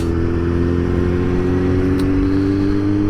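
A Suzuki GSX-S 750 motorcycle with a Yoshimura R11 exhaust, Power Commander 5 and Pipercross air filter runs with a steady, loud, close engine drone, holding a constant tone without talk.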